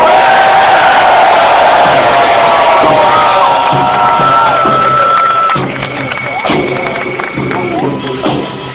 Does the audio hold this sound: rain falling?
no